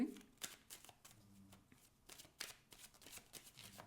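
Cartomancy cards are shuffled by hand for a thirteen-card spread, a short burst of close riffling and flicking in quick uneven strokes.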